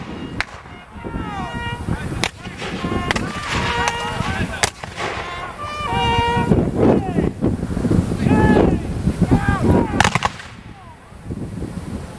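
Cannon fire at a Civil War reenactment, several sharp booming blasts spread across a windy outdoor field, with crackling shots and distant voices between them.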